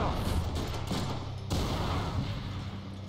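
Sustained gunfire in a Deadpool video game: a dense, continuous roar of rapid shots and blasts with no pauses, loud and close for about three seconds.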